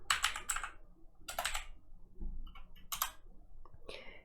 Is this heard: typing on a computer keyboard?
yes